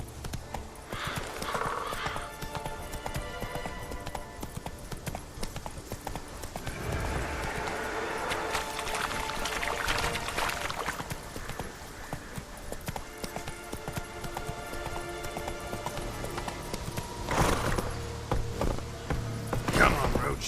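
Horse Roach galloping in The Witcher 3 game, rhythmic clip-clop hoofbeats throughout with occasional whinnies and a louder snort near the end, faint game ambience underneath.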